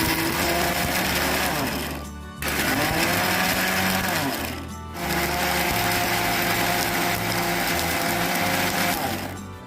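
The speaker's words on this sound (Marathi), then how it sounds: "आता हे मिश्रण आहे ना, आधी आहे ना असंच वाटून घेणार" An electric mixer grinder whirs loudly as it grinds peeled garlic into an aamboli batter mixture, running in long steady bursts separated by two brief pauses.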